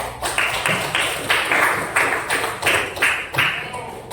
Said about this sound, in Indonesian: Aplaus buat kalian yang masih ingat dengan materi kemarin.